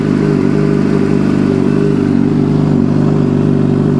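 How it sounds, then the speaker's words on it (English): A Suzuki GSX-R 600/750 motorcycle engine, freshly fitted with a replacement transmission, runs steadily at close range as it is clicked into first gear, a loud continuous mechanical drone with light clatter throughout. "So I want to go ahead and I'll shift it in some gears now"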